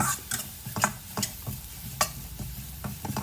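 Chili and garlic are stir-fried in a pan, with a spatula scraping and tapping in an irregular rhythm over a soft, steady sizzle, close by and with no talking.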